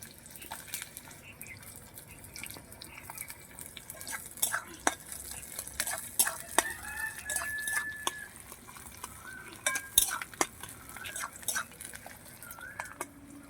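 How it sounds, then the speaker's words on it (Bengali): Chopped onion frying in hot oil in a home kitchen, a faint sizzle beneath scattered clicks and scrapes of stirring in the pan, quiet and close, with no voices. "তেল গরম হয়ে গেছে আমি পেঁয়াজ কুচি দিয়ে দিলাম"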